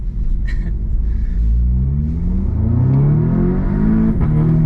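An Audi S3 with an ABT exhaust revs while the engine is still not fully warm, a loud close rumble that climbs in pitch through several rising sweeps, with no talking.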